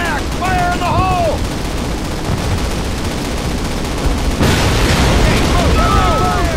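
Call of Duty battle as explosives take out a flak panzer at night, with dense continuous gunfire and booming blasts, loud and unbroken, a sharper surge partway through, and shouted voices mixed in.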